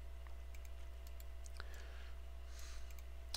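Computer mouse clicks while right-clicking objects in Blender: a few sparse, faint, sharp clicks scattered over a quiet room hum, with no voices.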